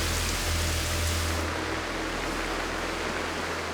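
Heavy rain pours down during a storm on a Fiji island, a dense continuous hiss of water close by, with a low rumble that drops away partway through and no voices.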